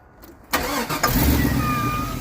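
A Chevrolet GMT800 2500HD pickup with about 300,000 miles and an exhaust leak near the EGR valve cranks briefly, then fires and settles into a steady, loud idle close by.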